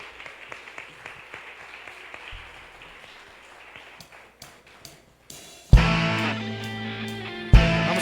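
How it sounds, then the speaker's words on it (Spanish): A church congregation applauding during a morning service: a steady crowd of clapping that builds through the first half before loud music with organ-like sustained tones bursts in, ending the clapping. "Podemos darle un fuerte aplauso al Señor en esta mañana"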